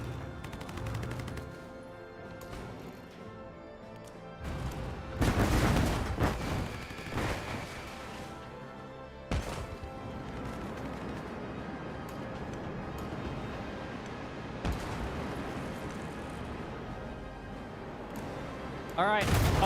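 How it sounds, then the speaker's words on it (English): Battleships firing in Civilization VII, a volley of booming cannon shots and rattling gunfire over a game music bed, with bursts that swell and fade across the stretch and a sharp final blast. "Alright, all battleships fire."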